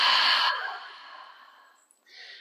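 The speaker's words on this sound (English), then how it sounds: "Because we're breathing." A person in a yoga class lets out one long, audible exhale, like a sigh, that fades over a couple of seconds. A short breath follows near the end.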